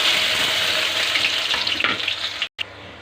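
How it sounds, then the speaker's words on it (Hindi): Chopped onion dropped into hot mustard oil in a home kitchen pan, giving a steady, close hissing sizzle that fades slightly and is cut off briefly near the end. "अब मैं डाल रही हूँ प्याज।"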